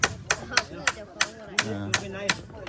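Bamboo stakes being pounded into a riverbed for a bamboo bridge, a series of sharp, evenly spaced wooden knocks close by, with faint voices in the background.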